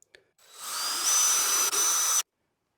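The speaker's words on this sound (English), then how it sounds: "Drill a pilot hole." Power drill boring a pilot hole at the top middle of a canopy bed frame for a curtain fitting, with one steady high whirring burst of about two seconds that starts and stops abruptly, close and loud with no talking.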